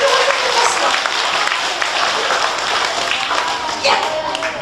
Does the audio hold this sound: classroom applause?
yes